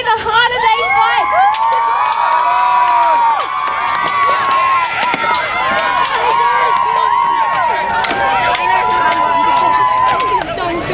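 A crowd at a medieval fayre cheers and shouts loudly through a staged fight, with children's yells and whoops rising over a dense, constant roar.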